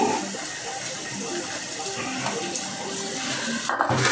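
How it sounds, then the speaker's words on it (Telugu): Two raw chicken legs rinsed under a running kitchen tap, a steady, close, dense rush of water throughout, briefly broken near the end, with no speech. "ఫస్ట్ శుభ్రంగా వాష్ చేసుకుందామా."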